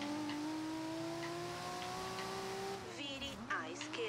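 Nissan Skyline GTR accelerating in Forza Horizon, a loud rising engine note climbing steadily through the revs, then a gear change and tire noise near the end, with a voice talking over it.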